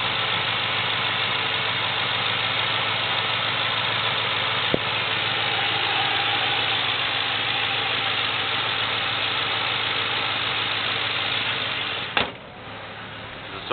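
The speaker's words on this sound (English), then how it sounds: "Sounds like the vehicle needs exhaust work." A surplus 2006 Ford Crown Victoria Police Interceptor, said to need exhaust work, idles with a steady rough rumble and slight knocking for about twelve seconds, a sharp click partway through, then the engine note cuts off.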